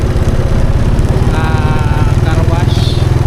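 A motorcycle engine putters steadily and close by with a rapid, even pulse while riding to a car wash in a rural province, with some faint voice-like sounds partway through.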